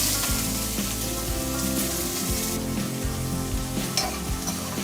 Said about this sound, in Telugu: ఆనియన్స్ కొంచెం గోల్డెన్ కలర్ వచ్చే వరకు ఫ్రై చేసుకోవాలి.